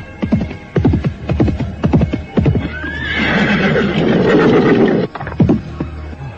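A horse in a radio drama sound effect: clip-clopping hooves slow and stop, then a loud, drawn-out whinny, followed by a few more hoofbeats, all close and clear with no talk.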